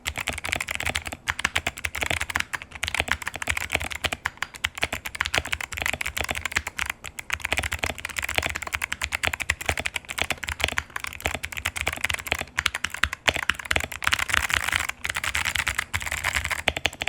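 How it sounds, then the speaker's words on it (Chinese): Steady, dense mechanical keyboard typing on a VXE V75X with light linear switches, continuous rapid keystrokes close up and alone with no talking. "接下来就让我们来听听这把键盘打的声"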